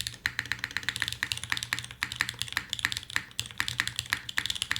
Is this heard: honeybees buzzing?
no